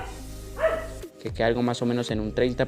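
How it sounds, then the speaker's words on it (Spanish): A pet dog barks off in the background of a home room, with a few sharp barks mixed under steady Spanish speech. "Perdón si escuchan a mi perro por allá ladrando"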